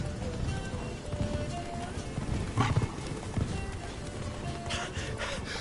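Hooves of Geralt's horse Roach clip-clop steadily at a gallop in The Witcher 3, with a brief whinny and some breathy effort sounds, all fairly quiet and continuous throughout.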